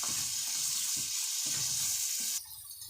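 Peppers sizzle and fry steadily in a hot pan for a shrimp pasta tray in white sauce, a loud continuous crackle close by with low stirring knocks underneath, easing slightly near the end.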